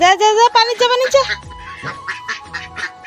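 Ducks quacking loudly in a backyard duck enclosure, rapid bursts of harsh quacks at the start followed by softer intermittent calls, with a person talking over them.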